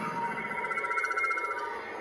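A Proffie lightsaber fitted with a 31mm speaker and running a Dark Saber sound font ignites into a steady buzzing, warbling hum with a rough pulsing texture, close and loud throughout, no talk.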